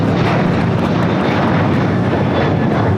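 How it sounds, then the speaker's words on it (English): Boeing 737-800 airliner passing near LAX, a steady loud roar of jet engines filling the whole three seconds with broadband rumble, no voices over it. "This is a Boeing 737-800."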